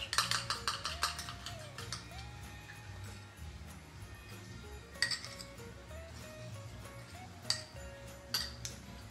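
Popcorn being stirred with melted red chocolate in a bowl, heard as light repeated clinks and scrapes of a utensil against the dish, faint and steady over a soft background tone with a few sharper taps.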